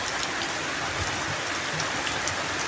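Steady, dense rain falls outdoors on rice fields, a continuous hiss of drops hitting the ground with no pauses or voices.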